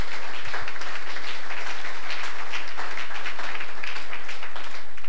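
A church congregation applauds the Lord with dense, sustained clapping that fills the room evenly for several seconds, with no pauses.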